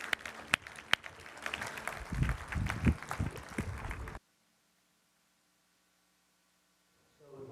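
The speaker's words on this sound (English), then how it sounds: "Let's give this panel a big round of applause." Audience applause greets a discussion panel at a business forum, a dense crowd clapping for about four seconds before cutting off into near silence, with faint stirring at the very end.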